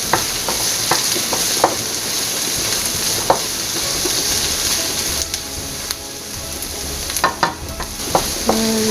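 Garlic sizzles loudly in a pan for stuffed pattypan squash, a dense crackling hiss with occasional spatula taps and scrapes near the end, close up.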